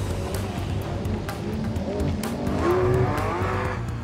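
Porsche cars on a racetrack, with a steady engine roar building slightly louder toward the end and a brief tire squeal, heard continuously and fairly close.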